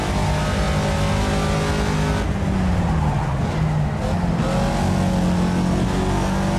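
A race car engine drones loudly and continuously through a practice lap at Silverstone in a racing video game, its pitch shifting as it revs and changes gear, with no pauses.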